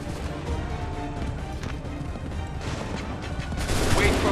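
Musket fire crackles in Assassin's Creed III, with scattered shots and a ragged volley over a busy battlefield din, growing louder near the end, with no clear speech.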